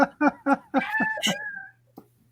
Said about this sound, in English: It's the cat meowing while it touches the ball there, Sean.